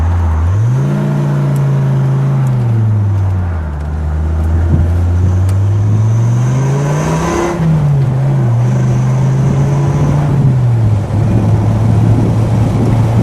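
A black 1995 Dodge Viper RT/10 drives steadily, its engine and throaty exhaust droning loud and close for the whole stretch, with pitch rising and falling through gear changes and a brief dip in revs partway through.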